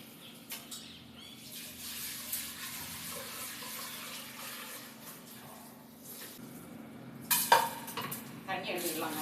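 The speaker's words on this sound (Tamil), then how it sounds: "இது வந்து நல்லா தண்ணி விட்டு வாஷ் பண்ணி எடுத்துக்கலாம்." Roasted green gram is washed in water in a kitchen, with soft sloshing and splashing and a few sharp clinks of a vessel, loudest toward the end.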